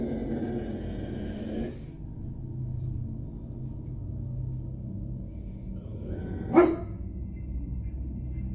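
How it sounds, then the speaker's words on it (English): A dog staring up at the ceiling keeps up a low, steady growl at close range, broken near the end by a single sharp bark before the rumbling growl continues. "The dog is visibly on edge, looking intensely at the ceiling and growling."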